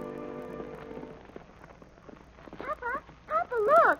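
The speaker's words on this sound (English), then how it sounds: "Now toward the ranch house comes another horse. This one wears a saddle, but no rider." A riderless saddled horse approaches a ranch house in a radio drama, its hooves clip-clopping in a light, irregular patter under narration and then under rising whinny-like cries.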